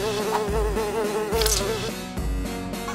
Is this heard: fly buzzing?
yes